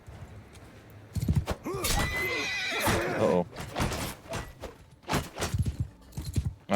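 A horse neighs loudly in the video game Mount & Blade II: Bannerlord after being stabbed, a long shrill whinny surrounded by hoof clip-clops and scattered combat thuds.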